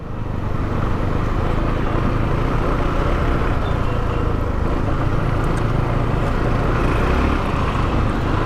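An FB Mondial HPS 300 motorcycle on a winding road gives a loud, continuous engine and exhaust drone with wind rush, the note rising and dropping through downshifts while the rider holds low gears, steady and close throughout.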